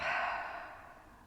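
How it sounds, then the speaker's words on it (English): A slow breath exhaled through the mouth during restorative yoga for the mid-back, a soft, airy sigh that starts fairly strong and gradually fades over about a second, heard alone. "So maybe you inhale through the nose and exhale through the mouth."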